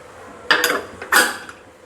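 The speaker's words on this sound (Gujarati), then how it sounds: "કુકરનું ઢાંકણ પેક કરી" Two sharp metallic clanks about half a second apart, a heavy pressure cooker lid being set and locked into place, close by with no voices.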